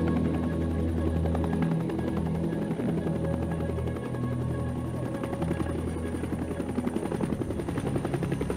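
A helicopter flies over a village, its steady rapid rotor thumping and engine whine continuous and fairly loud throughout, with no talk over it.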